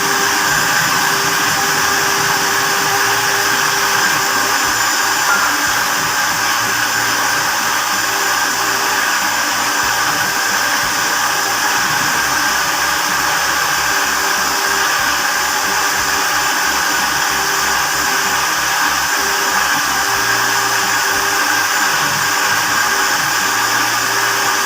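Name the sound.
blender grinding dates for a date shake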